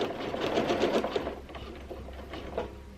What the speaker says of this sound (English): And then I'll just do a few stitches on the same spot, and then I can start quilting.